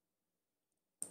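A computer mouse click lands after near silence: two quick, crisp clicks, close and fairly loud, near the end with no voice around them.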